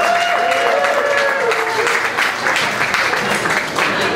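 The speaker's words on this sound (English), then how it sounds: "I want to give all of you a big round of applause and congratulate yourselves once again." Crowd applause at the AIDS Walk Los Angeles, a dense continuous wash of clapping mixed with cheering and voices, loud and sustained.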